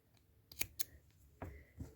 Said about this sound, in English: Let me just trim that tail end off.